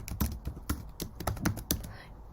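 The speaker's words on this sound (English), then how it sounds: "So if you type templates in" Quick bursts of keystrokes on a computer keyboard, close and clear, with an uneven rhythm of clicks lasting a couple of seconds before trailing off.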